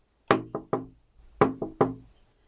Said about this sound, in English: climbed the fence, and knocked on her window